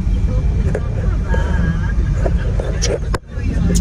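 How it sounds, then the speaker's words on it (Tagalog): Dense, heavy road traffic on EDSA in Las Piñas, a steady close wash of idling and rolling vehicle engines with wind buffeting the microphone and a brief dip near the end. "Grabe traffic dito sa EDSA Las Piñas."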